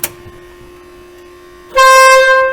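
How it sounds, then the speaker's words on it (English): A faint tone hangs briefly before a fire truck's loud, blaring air horn sounds once, held for under a second. "Air horn."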